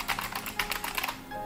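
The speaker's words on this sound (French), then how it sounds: "Le clavier Logitech, vu que le son est beaucoup plus aigu" Typing on a wireless Logitech keyboard, a quick run of light, high-pitched key clicks in an irregular rhythm, close and fairly soft, with no voices.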